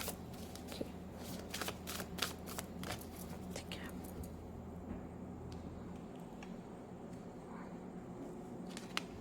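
Tarot cards are shuffled for an Aquarius reading in a series of quick, soft riffling bursts and taps, close and faint, repeating unevenly across the stretch with a quiet hum underneath and no clear talk.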